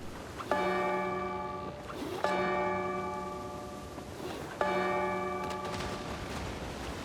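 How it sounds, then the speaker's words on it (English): A ship's bell in the Escape Simulator 2 pirate ship puzzle is struck three times at even intervals, each strike ringing out clearly and decaying slowly, with no talking. "we need to ring the bell 3 times"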